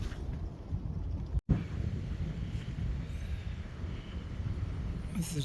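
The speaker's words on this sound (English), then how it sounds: "the wind is very strong today." Strong wind on the Appalachian Trail, heard as a constant low roar and buffeting rumble against the microphone, steady throughout with one brief dropout.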